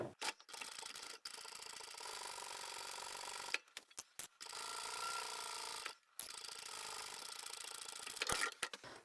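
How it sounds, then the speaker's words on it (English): A sewing machine stitches two fabric lining pieces of a reversible tote together with a 1 cm seam, its motor whirring in close, sustained runs broken by several short pauses. "we're just going to sew the two lining pieces together"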